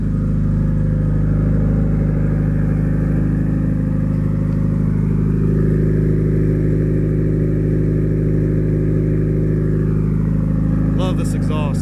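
Stock-engine Mitsubishi Evo 9 exhaust while driving, a loud, steady low drone with a constant rumbling tone that holds throughout, close up from inside the car, with a voice heard over it.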